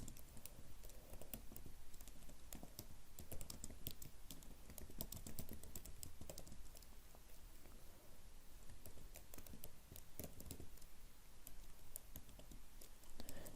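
Someone typing on a computer keyboard while entering text into an Excel spreadsheet, producing a steady, soft patter of rapid key clicks, close but faint, with no voice.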